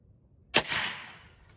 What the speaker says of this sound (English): 29 grain bullet. And they are quiet. It's just like a BB gun.